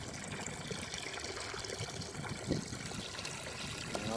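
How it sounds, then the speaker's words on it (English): Small trickle of water starting to flow in a bell siphon, a soft steady dribbling wash with a faint gurgle around the middle, close and continuous without talk. "And all of a sudden you get a small trickle,"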